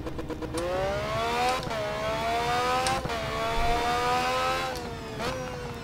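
Race car engine in the Race07 racing game at Falkenberg, revving hard through repeated upshifts, each climb in pitch broken by a brief gear-change dip, loud and steady throughout.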